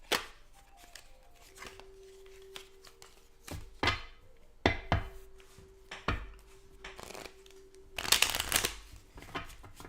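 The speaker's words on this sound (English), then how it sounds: "Giving the cards a good shuffle." Tarot cards being shuffled by hand, soft riffling and papery slaps in irregular bursts with a louder rustle near the end, close and fairly quiet over a faint steady hum.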